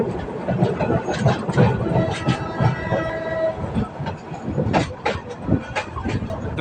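A suburban train from Narayanganj arriving at Kamalapur Railway Station, Dhaka, rumbles close by with rhythmic clickety-clack of wheels over rail joints, a steady rolling din with brief squeals as it moves along.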